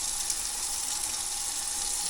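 Tap water running steadily into a sink, a continuous broadband hiss close by and fairly loud, with no voices over it.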